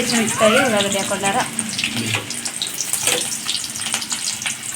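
Spices frying in oil in a pan give a loud, steady sizzle, with a person speaking over it at the start before the crackling carries on mostly alone.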